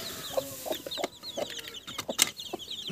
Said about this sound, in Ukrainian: Курчатка з квочкою, також кохінхінка ж водить їх.